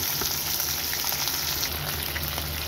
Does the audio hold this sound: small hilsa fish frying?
yes